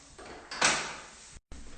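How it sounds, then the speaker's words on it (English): A basic hotel room door swings open with a short creak and a brief rush of air, then a sharp click as the sound cuts out for a moment before resuming. "This is the door."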